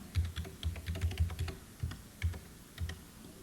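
Someone types a login on a computer keyboard, producing a quick, close run of crisp key clicks with small irregular pauses, alone without talk.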